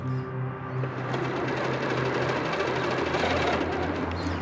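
A small electric motor whines steadily while driving an Axial Jeep Gladiator RC truck, its rear axle locked and front wheels spinning, making a continuous close buzzing hum with no talking.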